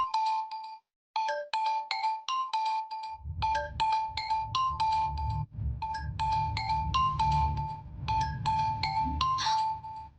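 A phone ringtone plays a bright, repeating chiming melody of rapid tinkling notes, looping several times for an incoming call, with a low background hum joining after the first phrases.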